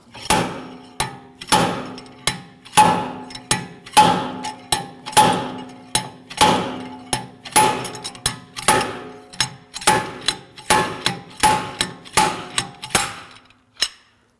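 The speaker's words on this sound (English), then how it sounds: "Now on the hub, I attached a slide hammer." Repeated sharp metallic slide-hammer blows knock against the rear wheel hub of a 2007-2013 BMW 328i during a wheel bearing job, about two strikes per second, loud and close, with brief ringing after each impact.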